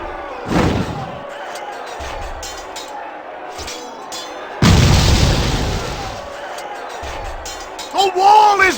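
A wall blown apart by pyromancers in the PSP game 300: March to Glory gives a sharp early boom, then a heavy, sustained explosive blast with rumbling debris, and a voice calls out briefly at the end.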